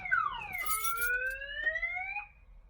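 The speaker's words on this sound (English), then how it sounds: "the alarm went off just with the attempt to start it" A Viper 230SL car alarm sounds loud and close, sweeping tones gliding down then holding and rising in a steady whoop before cutting off near the end.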